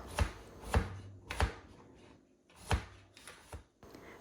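A knife slices firm cucumbers on a board in a series of sharp, irregular chops, close and fairly quiet.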